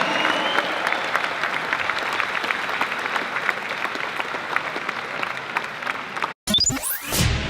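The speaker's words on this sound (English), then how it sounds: "Ladies and gentlemen, a big round of applause for Ben Shapiro." An audience at the Politicon 2018 convention applauds a speaker with loud, sustained clapping that fills most of the stretch, then cuts off abruptly and gives way to a short whooshing transition sound.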